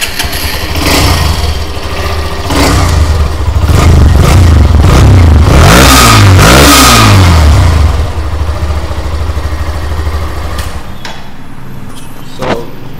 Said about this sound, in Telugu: అది మన నాయిస్, ఎగ్జాస్ట్.